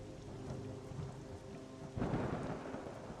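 Rain and thunder in the fantasy video game Monsters & Memories: a steady hiss of rainfall with a low rumble of thunder swelling and rolling near the end.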